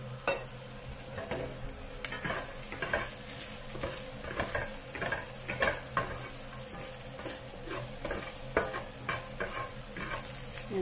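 Sliced bitter gourd sizzles and fries in a pan while a utensil stirs it, with soft scraping and tapping strokes over a steady frying hiss.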